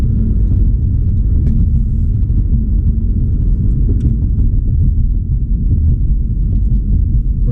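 A car cruises north on M-47 in Michigan, its interior filled with a loud, steady low road rumble and engine drone, and no speech over it.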